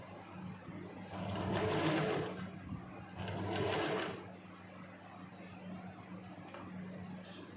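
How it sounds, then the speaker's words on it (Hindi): A sewing machine stitches pleats into a salwar, running in two clear bursts of rapid mechanical whirring and clatter separated by short pauses, close and fairly quiet. "अब देख इतनी देर में हमने कितना बल में सिलाई कर दिया"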